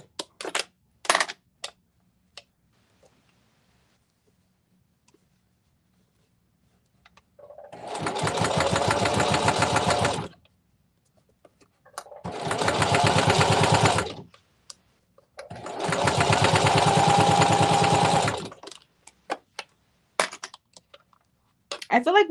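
A sewing machine stitches in three separate bursts of a few seconds each, a rapid whirring needle rhythm, with clicks and handling noises between the runs.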